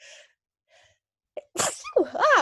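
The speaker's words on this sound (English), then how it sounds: "Oh, I have to sneeze." A single close, loud human sneeze bursts out after a couple of faint breathy intakes, with a sharp explosive onset and a short tail.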